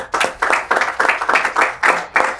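A lecture audience applauds a speaker being welcomed to the stage, a dense burst of many hands clapping in quick uneven pulses, fairly loud and close, with no talking.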